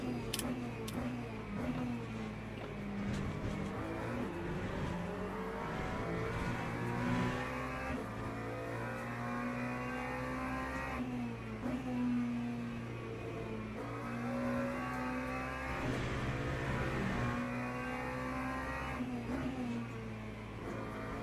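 A Ferrari race car in Le Mans Ultimate roars past with a loud, rising and falling engine note, shifting through gears and then fading as another car follows.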